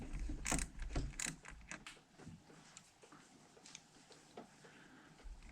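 A ratchet wrench works loose a 10mm bolt on a Duramax L5P diesel engine, clicking in short bursts up close, louder at first and then fainter, with no speech.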